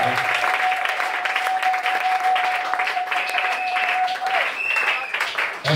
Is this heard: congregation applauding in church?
yes